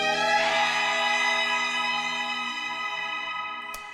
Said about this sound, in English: I've got a string sample that sort of contributes to the old-timey, cheesy feel of this record